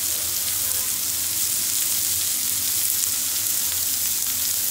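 Carrot pieces sizzle with browned onions in a pan over a medium flame, giving a steady, dense hiss of frying oil that does not stop throughout.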